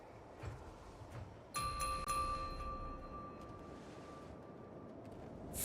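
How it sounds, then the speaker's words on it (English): A harmonic chime in the video game Honkai Star Rail rings once with a clear, sustained bell tone that slowly fades over a soft ambient game background. "We could try ringing the harmonic chime."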